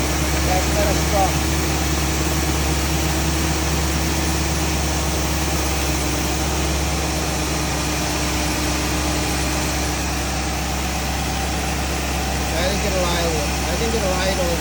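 A 2005 Porsche Cayenne S with its 4.5L V8 runs at a raised, steady idle, a constant low hum and rumble beneath someone talking throughout.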